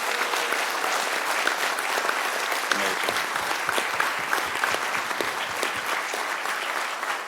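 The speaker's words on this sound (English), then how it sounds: "Please give them a big round of applause." Sustained, dense applause from an audience at a city commission meeting, honoring department members; steady, even clapping fills the whole stretch with no break and no talk.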